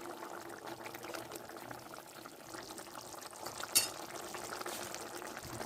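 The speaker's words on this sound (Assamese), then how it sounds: "এতিয়া ভেদাইলতা তৰকাৰীত গৰম পানী দি দিছে" Hot water poured into a simmering vegetable curry of Bhedailota (skunk vine) in a pot, a steady watery pour and bubbling running throughout, with a brief bright splash near the middle.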